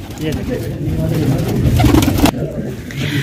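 Several fancy pigeons coo in low, throaty rumbles that overlap continuously, close and fairly loud, with a voice talking among them.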